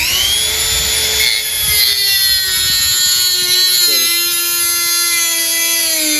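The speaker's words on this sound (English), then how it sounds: "Rolling it out means using a Dremel and a diamond cutting wheel" A Dremel rotary tool fitted with a diamond cutting wheel grinds out the wire of a fencing blade, giving a steady high-pitched whine that dips in pitch midway as it bites, close and continuous.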